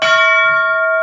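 A large railroad bell from the Virginian Railroad, displayed in a railroad museum, gives one loud close strike that rings on as a clear, sustained metallic tone, slowly fading with no talking.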